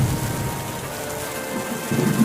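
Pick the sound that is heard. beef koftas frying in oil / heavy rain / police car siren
heavy rain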